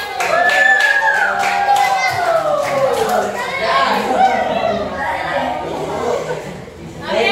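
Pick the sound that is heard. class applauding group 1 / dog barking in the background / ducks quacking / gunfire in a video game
class applauding group 1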